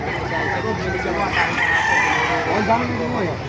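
Roosters crow loudly and close by at a chicken market in Baliuag, Bulacan, with clucking hens mixed in and a busy farmyard din underneath.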